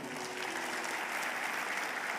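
A church congregation applauds steadily throughout, a dense, even wash of many hands clapping together at moderate loudness, with a faint sustained tone near the start.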